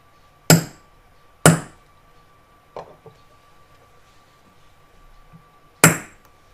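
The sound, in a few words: hammering a centre punch to make divots in metal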